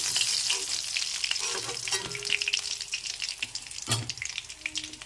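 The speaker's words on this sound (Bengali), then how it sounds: "এখন মাছটা ভেজে নিচ্ছি।" Pieces of rohu fish fry in hot oil in a kadai, giving a steady, dense sizzle with occasional stirring clatter throughout, no voices.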